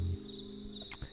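A steady, high cricket chirp rides over a music track, with a short thump of bass at the start and a couple of soft clicks near the end.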